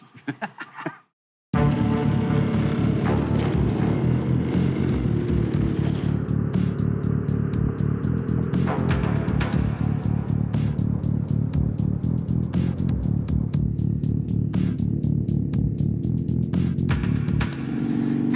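A KTM 990 Duke, a big V-twin naked motorcycle, is heard being ridden, with its loud, steady throbbing engine note holding close and continuous after a brief quiet start, with occasional clatter and wind.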